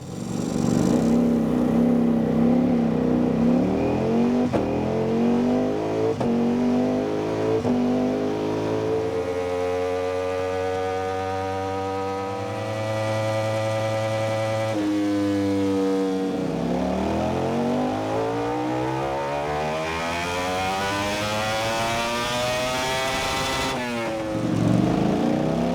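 A Ducati Panigale V4 R motorcycle revs loud and close on a dyno at BHP UK, its engine climbing through long rising sweeps, easing off briefly mid-run, then pulling hard again to a high-pitched scream before dropping off.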